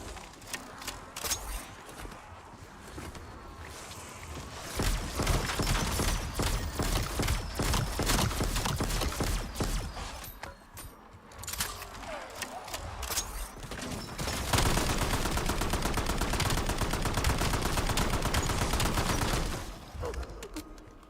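Ray gun fire in Call of Duty Zombies, rapid repeated energy-weapon shots in sustained bursts mixed with chaotic game noise and zombie commotion, moderately loud with brief pauses between volleys.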